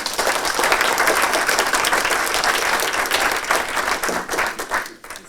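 Sustained, loud applause from a crowd at a fire department promotion ceremony, steady clapping that carries on throughout and tapers slightly near the end.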